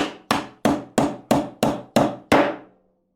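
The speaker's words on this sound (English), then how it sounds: "you got to hammer in some nails" Eight sharp hammer strikes driving nails in a steady rhythm, close and ringing slightly, the last blow a bit louder before silence.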